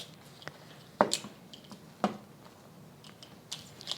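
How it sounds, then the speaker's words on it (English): Large garlic cloves squeezed through a handheld garlic press in a home kitchen, heard as a few soft, close squishing crunches spaced about a second apart over quiet room tone. "the garlic press"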